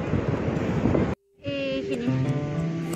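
Wind and surf at a Goa beach, a broad rushing roar close to the microphone with a brief dropout, after which a faint tonal hum sits under the wash.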